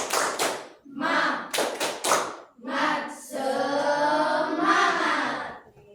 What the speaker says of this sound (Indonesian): Ayo tepuk semangat dulu ya.